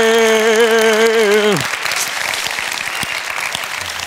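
An audience claps after a science presentation at a youth symposium, with loud applause near and steady, under a brief tonal sound at the start and a spoken word.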